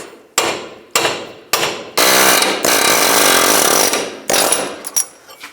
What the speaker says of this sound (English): Now I'm going to separate the ball joint from the knuckle. I'm going to use a pickle fork to do this.